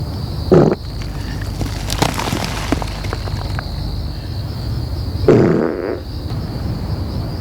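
Film sound-effect farts come as two loud, short blasts a few seconds apart, set against a steady high whine and soft rustling.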